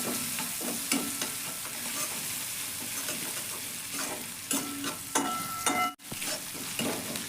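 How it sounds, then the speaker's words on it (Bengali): Ginger and chopped green chilli sizzle steadily in oil in a frying pan while a spoon scrapes and stirs them in short repeated strokes. A brief cut to near silence comes late, and no one speaks. "এবার একটু নেড়ে চেড়ে দেবো।"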